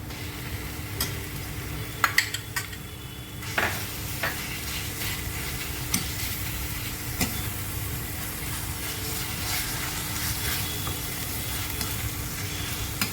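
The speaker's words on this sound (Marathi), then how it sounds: "स्लोवर थोडं अद्रक आणि लसूण भाजून घेते आहे" Ginger and garlic frying with browned onion in a pan, a steady low sizzle that runs throughout, with a few sharp spoon scrapes and clinks early on.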